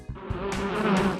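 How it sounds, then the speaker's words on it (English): A bee buzzes in a steady, close, fairly loud drone that runs for about a second with no other sounds around it. "A bee makes a buzz sound."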